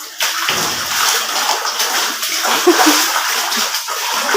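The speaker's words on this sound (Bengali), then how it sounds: "ওইভাবে সাঁতার কাটে, ওইভাবে সাঁতার কাটে।" Someone swimming in water makes continuous close splashing and sloshing, with a few brief lulls and faint voices in the background.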